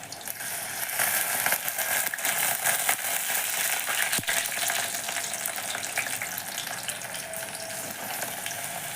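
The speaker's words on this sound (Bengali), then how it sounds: "এইভাবে আমি পরপর বড়াগুলোকে ভেজে নিচ্ছি।" Okra pakora fritters fry in hot oil in a home kitchen, giving a dense, steady crackling sizzle that holds at an even level, with one brief knock partway through.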